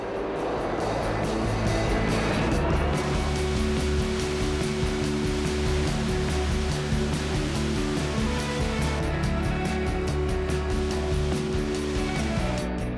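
A concrete mixer truck loads concrete from a batching plant chute. It makes a steady, loud rushing roar under a constant engine drone, continuous throughout with no talking.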